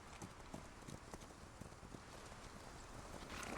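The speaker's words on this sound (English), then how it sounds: "I'm gonna have to get used to these horse controls." Horse hooves clip-clop steadily on cavalry mounts in the Civil War game War of Rights, a continuous close rhythm of overlapping steps without talk.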